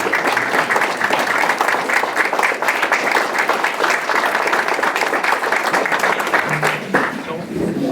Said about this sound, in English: I'd like to give Dave a big round of applause as well.